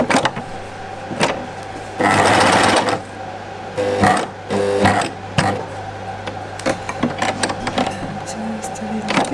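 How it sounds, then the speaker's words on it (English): A sewing machine stitches the hem of a knit jumpsuit in several short bursts of rapid whirring, separated by brief pauses, close and clear. "I'm just going to stitch on."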